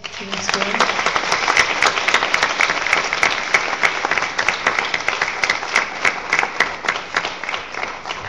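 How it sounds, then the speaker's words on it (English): An audience at a climate justice tribunal session in Central Appalachia applauds the witnesses, a steady, dense round of clapping that holds strong for about eight seconds, with a brief low murmur near the start. "I hope we can give all of our witnesses another round of applause."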